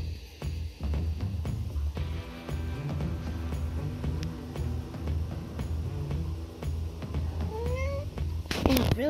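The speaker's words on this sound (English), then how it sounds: "my cat just jumped up in my face" A pet cat meows repeatedly and close by, with drawn-out, rising calls over a steady background hum, ending in a louder, higher cry.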